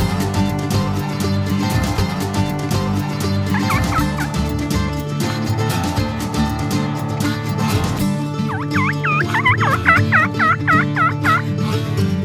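Wild turkey toms gobble outdoors in spring, with repeated loud, warbling gobbles over steady background sound, the calls getting stronger toward the end.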